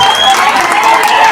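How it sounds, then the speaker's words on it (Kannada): A stage singing event audience bursts into dense, loud applause and cheering, a continuous wash of clapping from a nearby crowd in a brief burst. "ಒಂದ್ಸಲ ಜೋರು ಚಪ್ಪಾಳೆ ಬರ್ತೀವಿ"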